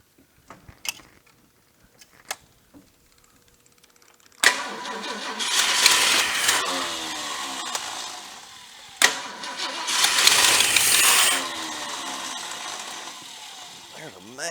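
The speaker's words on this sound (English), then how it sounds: "Can't believe she's firing up a little bit." A cobbled-up 390 engine with a badly leaking manifold and a massive vacuum leak cranks and fires up in two loud bursts after quiet clicks, catching roughly and sputtering with rattly mechanical noise.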